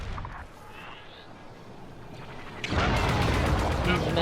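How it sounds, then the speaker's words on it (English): Missiles launching in Star Wars Squadrons, with a loud, sustained roaring blast of fire arriving abruptly after a quieter stretch of engine hum and faint effects. "These missiles, I hate them."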